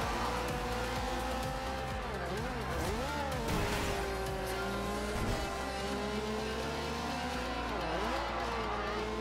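A car in Forza Horizon 2 oversteers, its tires squealing in repeated wavering sweeps over a loud, continuous engine roar.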